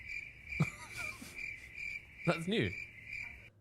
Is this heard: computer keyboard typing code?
no